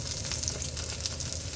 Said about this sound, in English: I don't season the salmon skin. I let it sear.